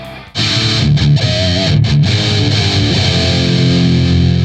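An electric guitar played through an amplifier's lead 2 channel roars with heavy distortion and a mid-scooped tone, loud sustained chords with a couple of brief stops and restarts, no voices.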